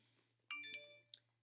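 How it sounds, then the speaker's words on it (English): A mobile phone rings with a faint, brief electronic chime of a few bright tones, then a short click, over quiet background hum. "that's my phone"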